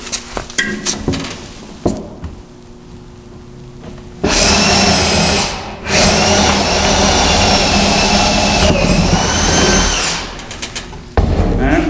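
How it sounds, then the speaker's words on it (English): A loud, steady power drill whine, drilling through a wooden cornhole board, runs for several seconds, pauses briefly, then resumes before cutting off, with quieter handling knocks at the start. "now I'm going to drill a hole right through where the X is."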